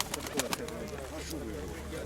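Pigeons coo at an outdoor fair in Pavlohrad, soft rolling coos close by over a low background murmur of the crowd.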